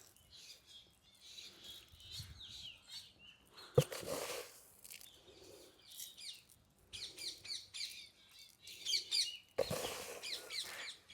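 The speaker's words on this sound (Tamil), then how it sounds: "காலையில் குருவி சத்தம் பாருங்க எப்படி கேட்குதுன்னு" Sparrows chirp and tweet in scattered bursts in a morning garden, some sharp and close, others softer in the background, with brief louder squawks between.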